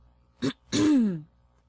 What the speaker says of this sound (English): Clearing your throat is a sound like this.